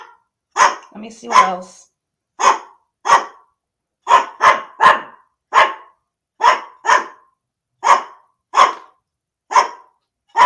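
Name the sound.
dog barking repeatedly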